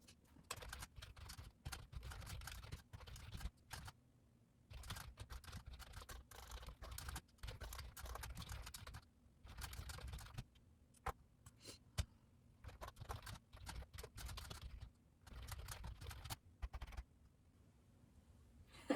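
Quiet typing on a computer keyboard, coming in bursts of rapid key clicks separated by short pauses, close and soft, with no talking.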